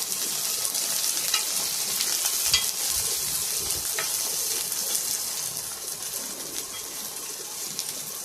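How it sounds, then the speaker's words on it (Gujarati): Okra sizzles steadily in hot oil in a kadai, a close, even frying hiss with faint stirring sounds. "આપણે ભીંડાને તેલમાં ત્યાં સુધી તળવાનું છે જ્યાં સુધી તેમાંથી લાળ છૂટી ન પડી જાય"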